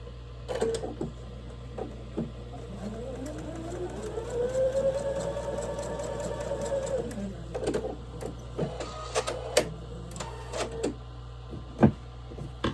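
Sewing machine stitching quilt block pieces corner to corner, a steady whirring run of several seconds rising and falling in speed, with clicks and handling noises around it.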